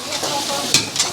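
Food stir-fries in hot oil in a wok during a Thai cooking class in Chiang Mai, giving a brief, close burst of crackling sizzle with two sharp scraping strokes of the utensil.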